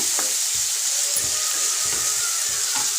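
Leafy puli keerai (sorrel greens) sautéing in a pan for a village-style kadayal, a steady close sizzle broken by regular scraping stir strokes roughly every half second, with no talking.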